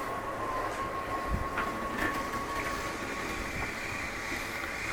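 An RV's living room slide-out motor retracting on a Flagstaff Superlite 29BHS: a steady mechanical whine with a constant tone runs throughout under a rumbling, noisy background, close range.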